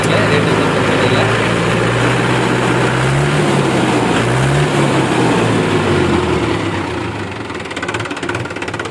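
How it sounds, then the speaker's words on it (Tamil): A Mahindra 575DI tractor in good second-hand condition runs steadily nearby, a loud continuous diesel chug with a slight dip toward the end. "ஸோ இன்ஜின் சவுண்டை நீங்களே பாருங்கள், ரொம்ப குட் கண்டிஷனில் இருக்குது."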